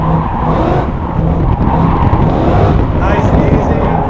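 A Ford F100 pickup with a GT500 engine swap drifts sideways, its engine roaring loud and close with continuous tire squeal and skidding throughout.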